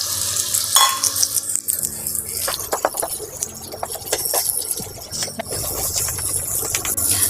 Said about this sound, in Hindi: मीडियम आंच पे ही हम शकरकंद को 10 मिनट के लिए भूनेंगे।